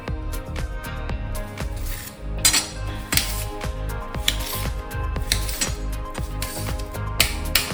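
Knife cutting small pieces of native tomatoes on a plate, with repeated sharp clinks and taps in a steady rhythm, close and clear, with no talk.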